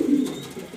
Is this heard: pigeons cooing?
yes